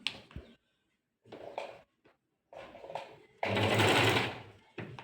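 Sewing machine stitching during sewing practice, short close whirring bursts of rapid stitches separated by pauses, one longer run near the end, with someone speaking between the bursts.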